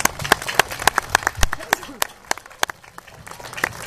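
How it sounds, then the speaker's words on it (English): An audience at a Relay for Life opening ceremony applauds with sharp, fairly sparse claps in a quick irregular rhythm that thins out toward the end. "Please join us in giving them a collective round of applause."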